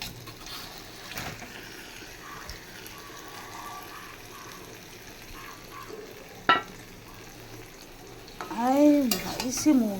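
Meat drops into hot oil in a pan after potatoes have been fried, giving a close, steady frying sizzle with stirring scrapes, a sharp clank and a brief burst of louder hissing toward the end.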